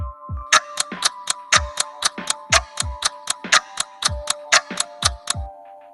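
A clock ticks through a quiz countdown in a steady, fast, even series of sharp, bright clicks, close and loud throughout with no voices.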